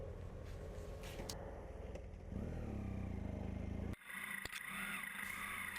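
A BMW F700 motorcycle pulls away on a snowy, slippery trail, its engine note rising and then cutting to a clattering scrape partway through, heard at moderate distance.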